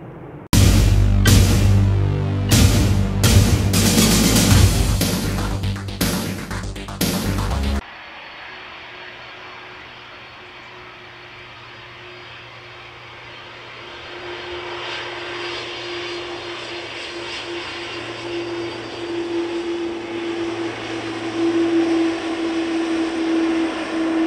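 A jet airliner roars loudly past on the Manchester Airport runway for several seconds, cuts off abruptly, then a steady distant engine whine and rumble slowly builds as another aircraft moves along the runway.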